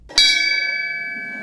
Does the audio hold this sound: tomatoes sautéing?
no